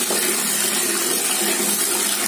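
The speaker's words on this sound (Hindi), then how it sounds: "अब इसके बाद में थोड़ा सा ठंडा पानी मिलाऊंगी।" Water pours steadily into a bowl in a kitchen, a continuous close splashing stream of cold water added to hot water for washing vegetables, with no talk.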